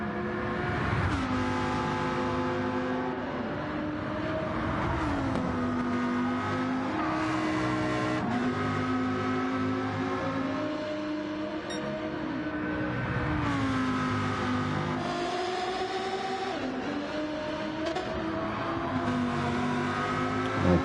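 Gr4 race cars, including a Lamborghini, lap Trial Mountain in Gran Turismo. Several engines drone continuously at high revs, rising and dropping through repeated gear shifts, with faint tire squeal and no voices.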